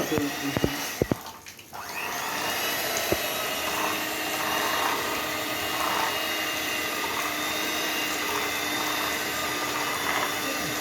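An electric hand beater whirs steadily, beating a bun maska mixture, a loud continuous motor drone with a few clicks and knocks as it starts up.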